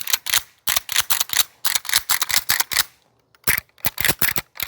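Lever action of a 2024 Ruger Marlin 336 30-30 rifle being cycled without ammunition, sharp metallic clacks in quick repeated pairs held close to the mic, with a short pause before a final run of cycles.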